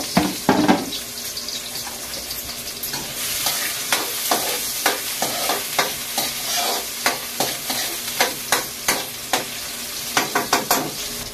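Garlic and onion sautéing in a hot pan, a steady close sizzle broken by repeated sharp clicks and scrapes of a utensil stirring against the pan.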